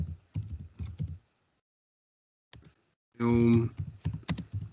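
Quick clicking keystrokes on a computer keyboard during Photoshop work, heard in short bursts between stretches of nearby talk, with a quiet pause in the middle.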